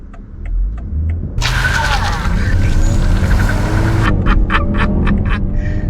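A 2017 BMW 740i M Sport with the B58 engine, in sport mode, accelerates hard with a loud rising engine roar inside the cabin, while a person exclaims excitedly over it.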